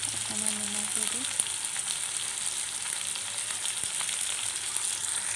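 Tomatoes frying with salt in a pan make a steady, soft sizzle that holds evenly through the whole stretch, with a few faint clinks from stirring.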